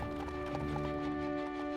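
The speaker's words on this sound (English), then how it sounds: "Horse-drawn carts deliver the prefabricated components to the construction site on the Champ de Mars." Horse-drawn carts delivering prefabricated components to the Eiffel Tower construction site on the Champ de Mars, their hooves clip-clopping in a steady rhythm beneath a sustained musical drone.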